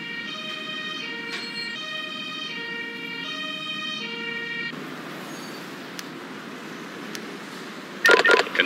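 Ambulance siren in the Emergency 5 firefighting and rescue video game. Its steady electronic tones wail for the first half over a soft background rumble, then fade into ambience, with a brief noisy burst near the end.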